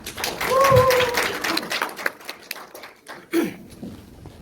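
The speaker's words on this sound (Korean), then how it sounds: "박수로 모시겠습니다" Audience applause at a year-end blockchain industry party in Korea, welcoming a company head onto the stage: broadband clapping builds near the start and fades over a few seconds, with a voice and scattered claps near the end.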